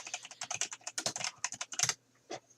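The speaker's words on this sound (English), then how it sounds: "just typing away" Rapid typing on a computer keyboard during a tabletop role-playing game session, with close, crisp key clicks in quick irregular bursts, a brief pause near the end, and then a few more keystrokes.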